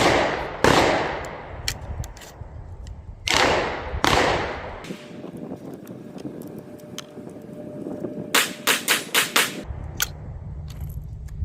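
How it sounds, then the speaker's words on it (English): Rossi 92 lever-action rifle in .357 Magnum fired at a target on a range: two loud, sharp reports a few seconds apart with ringing decay, then a cluster of quick metallic clicks and rattles from working the action, no talking. "I'm going to take some shots down here on this target to see where point of impact is"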